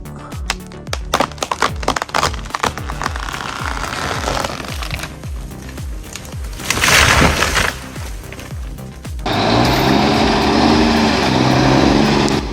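A chainsaw cuts into a giant centuries-old tree with a loud, steady engine drone that rises and bogs as the blade bites, broken by sharp crackling bursts and a continuous high whine through the final seconds.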